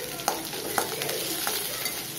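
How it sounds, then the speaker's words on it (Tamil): Curry leaves, green chili and ginger sauté in hot oil, a bright dense sizzle with several quick spatula clicks and stirs spaced through the short stretch. "கருவேப்பிலை, பச்சை மிளகாய், இஞ்சி மூணையும் போட்டு நல்லா வதக்கணும்"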